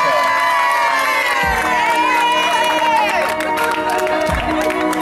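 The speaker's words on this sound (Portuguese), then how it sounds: "Parabéns, Irene. Você está recebendo uma loucura de amor, uma salva de palmas." A loud, excited crowd cheers, whoops and claps for Irene at a romantic surprise in Vila Maria, with shrill voices and shouting over steady applause and a low thumping beat underneath, all close and energetic.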